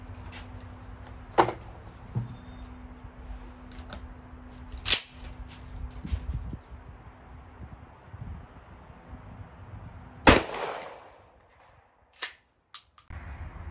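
Shotgun firing Remington buckshot shells outdoors, a handful of sharp, loud blasts spaced unevenly, one especially heavy report with a rolling echo, between quieter rustling and handling noise, with no talk.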